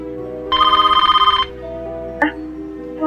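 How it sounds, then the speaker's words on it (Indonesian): Telephone ringing in a horror film, a single bright electronic ring burst lasting about a second, followed by a quieter tone and a brief click under a low sustained background. "Tampak Laila yang mendengar suara telepon berbunyi."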